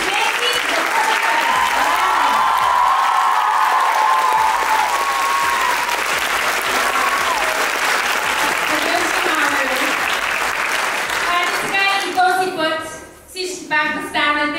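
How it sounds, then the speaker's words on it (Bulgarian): An audience at a street dance event claps in sustained, dense applause that carries on for several seconds before breaking up into scattered claps, with voices talking over it. "аплодисменти не с вас, аплодисменти за хората."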